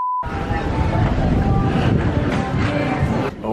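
Breeze on a cruise ship's waterfront deck near Tortola, a loud, steady rush of wind buffeting the microphone with a faint watery wash beneath, lasting the whole stretch.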